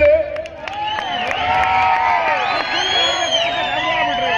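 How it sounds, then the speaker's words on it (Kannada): Spectators cheering, whooping and shouting at a local kabaddi match in the Kesari Cup 2024, Hesaraghatta versus HMT Colony Boys, a loud sustained crowd roar with children's high shouts and some clapping. "ಕಬಡ್ಡಿಗೋಸ್ಕರ ಒಮ್ಮೆ ಚಪ್ಪಾಳೆ ಅಥವಾ ಒಂದು ಕೂಗು ಬರಲಿ"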